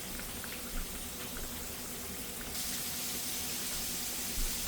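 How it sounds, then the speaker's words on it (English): Steady sizzling and bubbling from pork chops frying in a pan, a soft continuous hiss that grows brighter halfway through. "that's frying really good here"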